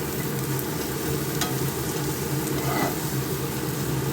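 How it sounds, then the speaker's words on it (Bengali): Dal fry being stirred into hot oil in a pan, a steady close sizzle and frying hiss with faint scraping of the spoon running throughout, no talking. "এটাকে মিক্স করে নিচ্ছি অয়েলের মধ্যে।"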